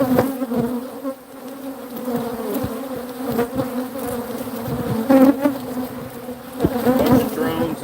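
Honey bee drones and worker bees buzzing at a hive, some carrying pollen baskets, a steady close droning hum with shifting pitch as individual bees pass near, continuous throughout with no talk.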